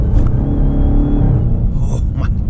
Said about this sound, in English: Listen to these upshifts.